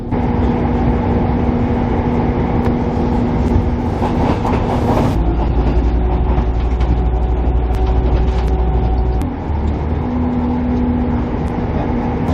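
A Turbostar diesel passenger train runs on the Poacher Line in Lincolnshire, heard from inside as a steady loud rumble with engine drone and a shift in pitch midway.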